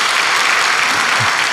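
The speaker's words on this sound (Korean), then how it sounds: "우리 박수 한번 쳐주세요" A church congregation at a Korean worship service claps together in sustained, dense applause, loud and close throughout with no pauses.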